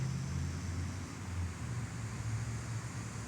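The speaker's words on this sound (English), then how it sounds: "The sound of traffic." Steady low rumble of distant traffic, a continuous wash of road noise with no distinct vehicles standing out.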